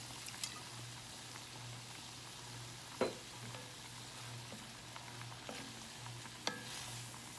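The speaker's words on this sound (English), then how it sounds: "it's time to deglaze the pan, and for that we want to use a little bit of white wine" Shrimp scampi pan deglazed with white wine gives a quiet, steady sizzle with a low hum beneath and a few soft clicks and taps of utensils against the pan.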